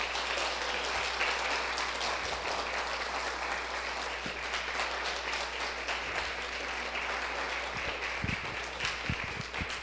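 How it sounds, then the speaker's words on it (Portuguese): A church congregation applauding loudly in praise, sustained dense clapping from many hands filling the room without pause, with only scattered faint voices beneath. "Vamos aplaudir o nome do Senhor bem forte."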